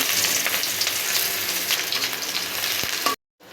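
Chopped garlic and onion frying in oil for North Bengal aloo ghati give off a steady, close sizzle that runs for about three seconds and then cuts off abruptly into silence.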